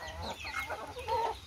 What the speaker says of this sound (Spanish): tres gallinas con pollitos chiquitos que hace poquito